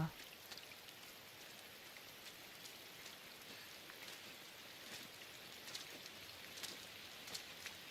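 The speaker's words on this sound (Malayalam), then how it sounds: "ഇവിടെ ഫുള്ള് മഴയിലൊട്ടൊക്കെയാണല്ലോ." Steady video game rainfall patters down continuously, with scattered droplet taps standing out over the soft, even hiss.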